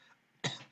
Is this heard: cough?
yes